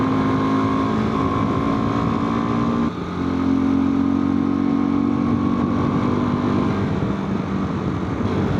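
A KTM 390 Adventure motorcycle engine labors uphill at high altitude on a Ladakh mountain pass, a loud, steady close-up drone with wind rush and a brief dip near the middle as it struggles to accelerate.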